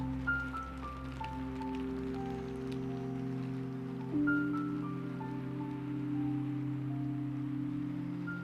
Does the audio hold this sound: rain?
yes